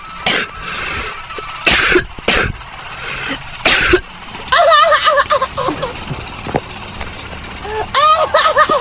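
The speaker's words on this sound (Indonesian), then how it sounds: "Aku lagi sakit nih Upin, aku batuk." A cartoon child coughs in several sharp, loud bursts over the first few seconds, and then cartoon voices talk.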